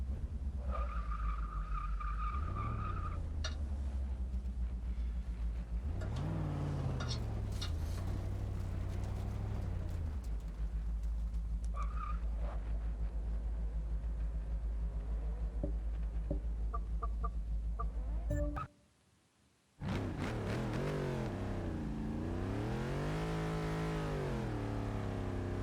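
Forza Motorsport 6 race cars warming their tyres before a drift run, with engines droning steadily and long squealing tyre skids rising and falling, broken by a brief drop to near silence before the engine roar and screeching return.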